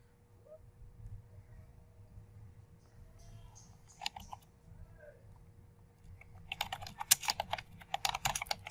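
Typing on a computer keyboard, faint scattered key clicks at first, then a denser burst of rapid clattering keystrokes toward the end, close and alone with no talk.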